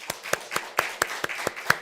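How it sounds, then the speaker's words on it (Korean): A church congregation claps in a steady, rhythmic beat of about eight sharp hand claps, moderately loud and close, with no talking over it. "축복하면서 박수 한번 하겠습니다"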